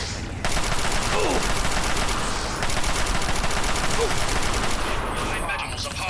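Dense, continuous gunfire in the video game Fallout 3 rattles without pause, loud and close as the shots hit the player, with a brief quieter moment at the start.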